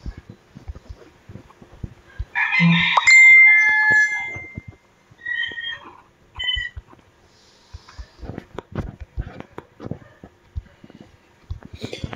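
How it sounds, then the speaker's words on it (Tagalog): A single drawn-out rooster crow rings out in a video game, loud and tonal for about two seconds, followed by scattered clicks, faint game sounds and brief talk. "Uy, may manok."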